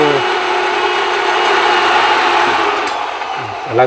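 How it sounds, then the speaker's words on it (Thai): A power drill bores through material in a sustained high, steady whine that holds for several seconds, close and loud, easing slightly near the end. "เจาะกำลังอันนั้นอยู่พี่น้อง"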